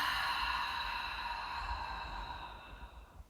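A long, breathy exhale during a core exercise, close and steady at first, then fading out as the breath empties.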